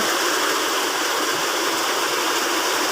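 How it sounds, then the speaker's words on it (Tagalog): Heavy rushing rainwater pours steadily down a rural road like a fast stream, a constant loud broadband wash with no pauses. "yung agos sa kalsada o oh, parang sapa na yung kalsada"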